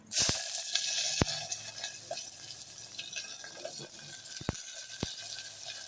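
Radish, broad beans, brinjal and okra hitting hot oil seasoned with fenugreek and asafoetida for a tiffin sambar, producing a steady close sizzle and hiss with a few sharp clicks of a spoon against the pan.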